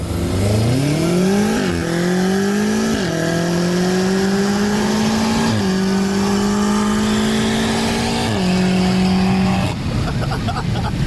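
A BMW M5 Competition accelerates hard toward redline, its engine note climbing loud and close through several gear changes, with each shift briefly dropping the pitch before it rises again.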